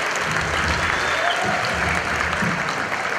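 Steady applause from a live audience at an Australia and New Zealand tour show, welcoming Stefan Molyneux onto the stage; dense continuous clapping fills the hall at an even level with no speech over it.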